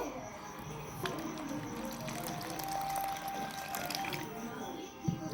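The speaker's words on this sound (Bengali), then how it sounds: "তারপরে এর মধ্যে জল দিয়ে দিব।" Water poured into wheat flour mixed with salt while making dough for homemade semai, a steady, fairly quiet splashing pour that runs for several seconds, with a soft thud near the end.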